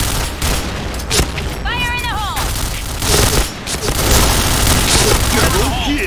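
Bomb explosions in a video game go off as loud, booming bursts within a dense, continuous barrage of gunfire-like blasts. Brief whistling sweeps cut through the noise.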